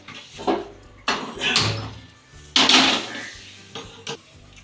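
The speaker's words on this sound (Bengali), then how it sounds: "কড়াইটা আমি বসিয়ে নেব।" A metal kadai is set on a kitchen stove with several sharp clanks and scrapes, spaced out over a few seconds and close by.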